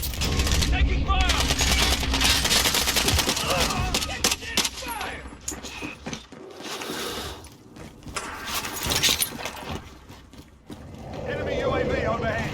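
Call of Duty Warzone gunfire rattles in dense automatic bursts alongside game alerts and a spoken callout, with rumbling engine-like noise and a lull in the middle before firing and commotion pick back up.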